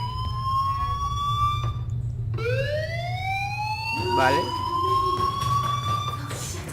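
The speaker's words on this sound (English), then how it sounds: "Hey, do you hear that fire alarm?" Fire alarm ringing in the video game Life is Strange, steady rising-and-falling siren-like tones over background hum, with a brief spoken word partway through.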